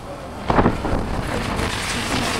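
Strong wind buffets the microphone outdoors at a coastal fishing spot in Calatagan, Batangas, Philippines, a rough, gusty roar with a louder burst near the start, then steady blustery noise.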